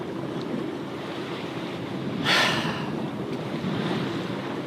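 Steady wind and wave wash around a sailboat sailing upwind in a northeast breeze, a continuous broadband rush with a brief louder gust or splash near the middle, no talk.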